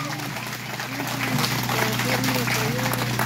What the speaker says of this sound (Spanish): Que se escuchen fuerte los aplausos por ahí, por favor.